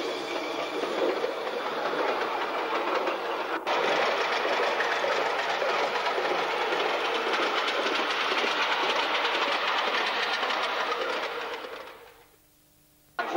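A ride-on model steam locomotive runs on track at a model railway club exhibition, giving a dense, continuous rattling clatter close by that fades out near the end.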